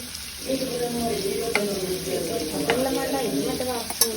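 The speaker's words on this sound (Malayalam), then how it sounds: "അപ്പോൾ നമ്മൾ ചിക്കനെല്ലാം ഏകദേശം വറുത്തിട്ട് തയ്യാറായിട്ടുണ്ട്" Chicken frying in oil until golden makes a steady, fairly loud bubbling sizzle with a few sharp pops, continuous and close.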